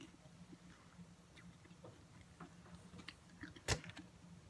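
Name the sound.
chewing bionico with crunchy granola and soft fruits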